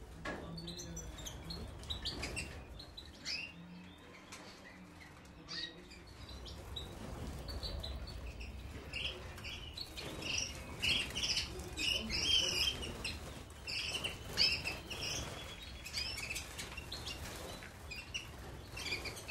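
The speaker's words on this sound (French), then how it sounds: "Un oiseau, bon ben, c'est gai, ça chante." Canaries singing and chirping indoors, scattered bright twitters and trills at moderate distance over a low background rumble and faint murmurs, fuller in the second half.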